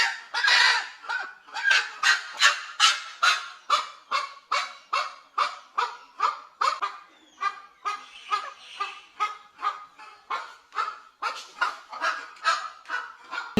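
Hens lined up on a sofa to lay eggs give a steady run of short, loud, honking clucks close by, repeating about every half second, with no talk.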